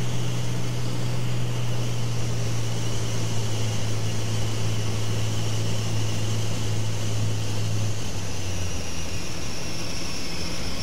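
A light aircraft engine drones steadily and loudly throughout the landing approach, with a constant wind-blown roar and a slight drop in engine pitch toward the end.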